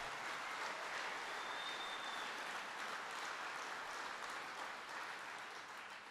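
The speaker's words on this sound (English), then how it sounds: "And even Terry's clapping about that one" Crowd clapping at a speech on agricultural innovation, a steady, fairly distant wash of applause lasting the whole stretch and fading slightly at the close.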